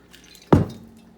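A single splash of hot water poured onto British 24-hour combat ration Brown Biscuits, Premier: a sharp liquid hit that fades quickly over a quiet background, with no talking.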